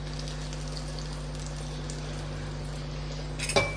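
A hot tempering of oil, mustard seeds and curry leaves is tipped into coconut chutney, giving a steady sizzling hiss beneath a low background hum, ending in a brief louder crackle.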